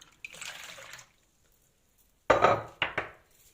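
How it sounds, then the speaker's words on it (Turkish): Two glasses of lukewarm water pour into a bowl, first a gentle trickle, then after a pause a louder splashing pour followed by a second short splash. "2 su bardağı da ılık su koyuyorum."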